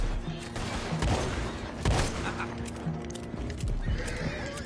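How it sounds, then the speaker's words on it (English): Horses whinny and neigh over steady galloping hoofbeats in a PS4 video game, with scattered gunfire cracking through the loud, busy scene and brief voices mixed in. "Go find out about those horses down below."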